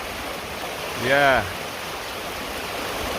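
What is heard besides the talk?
river water flowing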